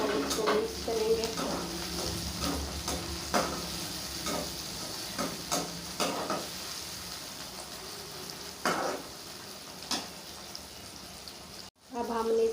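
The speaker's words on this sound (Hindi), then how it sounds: "अब हम इसके अंदर टमाटर डाल लेंगे। टमाटर काट के रखे हैं और इसको मिक्स करेंगे।" Chopped tomatoes being stirred into bhindi chicken in a pan, with steady sizzling and frying under repeated scraping stir strokes and clatter, and a voice talking now and then.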